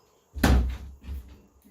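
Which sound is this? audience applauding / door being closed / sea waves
door being closed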